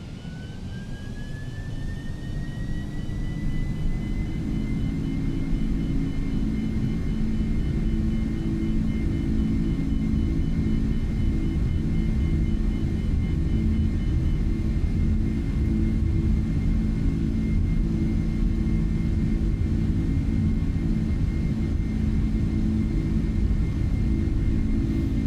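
Jet airliner engines roar steadily at takeoff power on a Sao Paulo departure, a loud broadband rumble with a rising whine settling into a sustained tone.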